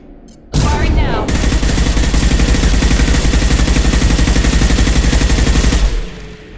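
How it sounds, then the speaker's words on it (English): Sustained heavy gunfire in Mass Effect 2 Legendary Edition erupts after a short pause, a loud rapid stream of shots lasting several seconds before cutting off abruptly. "Firing now!"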